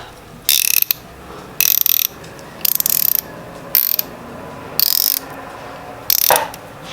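A 3/8-inch swivel ratchet clicks sharply in six separate close bursts, each a rapid run of metallic pawl clicks with short quiet gaps between them and no voices.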